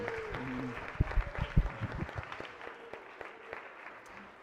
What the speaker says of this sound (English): would we please give a big round of applause and happy birthday to Senator Chris West